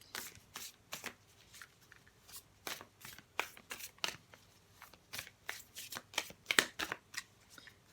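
A Mystic Oracle card deck is shuffled by hand in quick, crisp riffling bursts, repeated many times at a steady irregular rhythm, close and fairly quiet.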